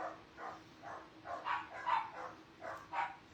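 Several neighbouring dogs bark at a distance in a loose, repeated series of about eight barks over a few seconds, fairly faint and with no talking.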